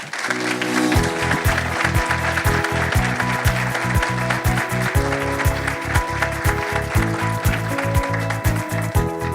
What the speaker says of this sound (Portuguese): Uma salva de palmas, Sérgio Rial.